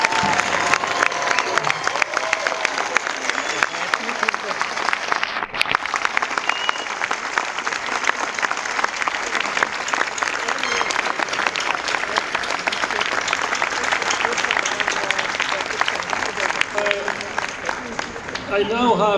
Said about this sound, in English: let's have one more round of applause